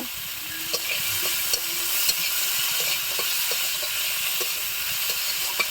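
Spices and potatoes stirred together in a hot pan, a constant sizzling hiss with regular scraping strokes of the spatula at close range, no talking.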